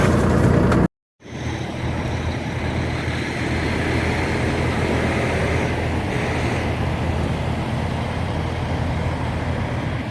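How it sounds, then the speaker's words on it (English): A parked vehicle's engine idles in freezing winter weather in Champaign, Illinois, a constant broadband rumbling drone that continues steadily after a brief cut, with no voices. "I'll keep the engine running"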